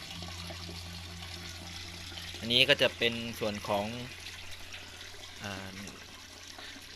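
Water from a recirculating waterfall splashes steadily into a fish pond filter setup, a constant close wash of trickling and pouring under a voice talking through the middle of the clip.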